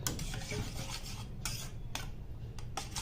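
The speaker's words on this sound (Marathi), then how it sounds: "डाळ शिजली आहे लगेच आहे ना अशी मॅश करून घ्यायची" Cooked dal lentils are mashed in a pot while hot, giving steady scraping, rubbing and rasping with brief metallic knocks of a utensil against the pot, close and continuous.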